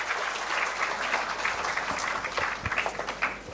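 An International Women's Day conference audience gives sustained applause, a steady patter of many hands clapping at moderate loudness throughout with a few sharper individual claps standing out.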